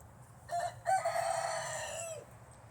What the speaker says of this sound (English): this is the rooster that randomly showed up